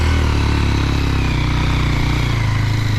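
A motorcycle engine runs on Saint Martin island, a loud, close, steady throb with a rhythmic pulse that holds evenly throughout, with no talking.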